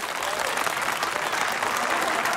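A studio audience claps at a show featuring young gymnasts, producing steady, sustained applause that fills the short stretch without a break.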